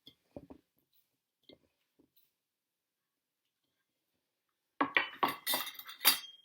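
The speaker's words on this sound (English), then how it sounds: "as I'm pouring it in, I'm just mixing it and stirring it" Salt dough being mixed and stirred in a bowl, with a few faint isolated taps at first, then a cluster of close scraping, clinking spoon-against-bowl strokes near the end.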